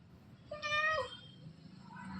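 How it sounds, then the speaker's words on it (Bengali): A cat playing with a live rat lets out one clear, drawn-out meow up close, followed by softer background noise and a faint low tone. "ম্যাও ওটা কি?"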